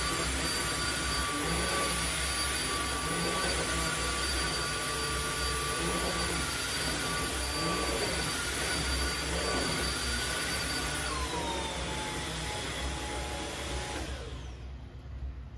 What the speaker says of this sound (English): there is the Jet 90 picking up some stuff